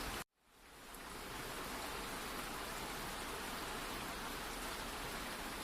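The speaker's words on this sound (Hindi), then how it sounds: "इस बारिश ने तो मेरा जीना हराम कर दिया है।" Heavy rain pours down in a steady, dense hiss after a brief silent gap at the start, loud and continuous with no voices.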